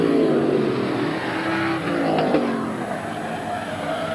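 Several race cars roar around the oval at Midvale Speedway in 1982, running three wide out of turn two. The engines drone loud and steady, swelling slightly as the pack sweeps past, and no voices are heard.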